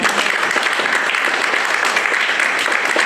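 Church congregation applauding and cheering after the pastor calls on them to acclaim God during a sermon, a dense, steady roar of clapping that stays loud for the whole stretch.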